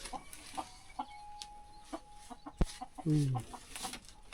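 Chickens cluck in short, scattered bursts near a rural Thai household, with a louder run of clucking toward the end and occasional thumps and faint voices in the background.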